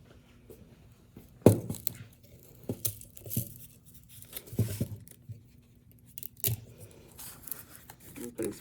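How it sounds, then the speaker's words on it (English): Tape torn from a roll and pressed onto a clay slab while making a tripod mug: several sharp ripping and crinkling bursts at irregular intervals, close by, with someone talking quietly between them. "I'm putting some tape on there so it's not, it stays together"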